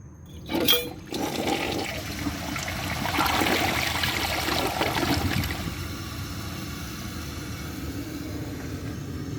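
A 1994 Mansfield Alto toilet with a water-saving flapper flushes up close, starting with a sharp handle clunk, then a sustained rushing swirl of water that settles into a steady refill trickle.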